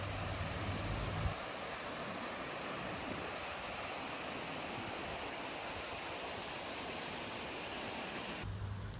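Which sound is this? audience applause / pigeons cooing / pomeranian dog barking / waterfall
waterfall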